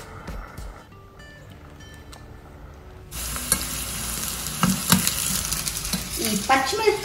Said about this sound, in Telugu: ఈ పచ్చిమిరపకాయలు కూడా క్రిస్పీగా అయ్యేంత వరకు ఫ్రై చేసుకోవాలన్నమాట